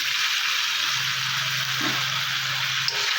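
Okra and pumpkin sizzle in a spiced pan, a steady close hiss of frying with a brief stirring clatter partway through and no talk.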